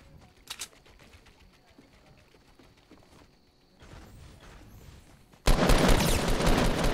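Gunshots in Fortnite Battle Royale start as sparse faint pops, then break into a loud, sustained volley of rapid fire near the end, with a voice talking earlier.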